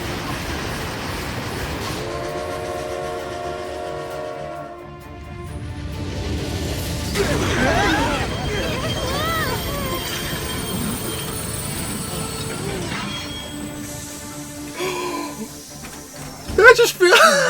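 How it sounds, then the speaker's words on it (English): A video game train from Sonic Shuffle, seen in Persona 5 Tactica, passes with continuous rumbling, squealing wheels and clacking. It builds and shifts over time, with talking over it and a few sharp peaks near the end. "Oh hey, it's the train from Sonic Shuffle."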